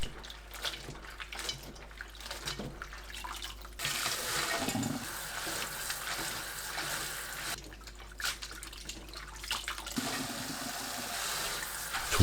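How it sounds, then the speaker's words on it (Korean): Dried radish strips being rinsed in cold water, with running tap water and splashing in bursts: quieter handling, then a steady gush of water midway, a pause, and more flowing water toward the end. "무말랭이를 찬물에 3-4번 헹궈줍니다."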